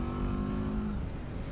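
A BMW G 310 GS motorcycle engine running at a steady, even note, a close and fairly loud drone with a low throbbing hum that holds without any sharp revving.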